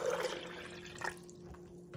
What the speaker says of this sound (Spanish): primero voy a poner el agua.